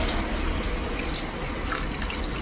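Water runs from a tap into a brass vessel in a home kitchen while cooking a fish dish, a steady close hiss of flowing water with no talk over it.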